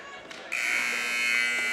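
A loud, steady electronic buzzer sounds to end the first period of a high school girls' hockey game in an arena, holding a sustained harsh drone over crowd and rink noise.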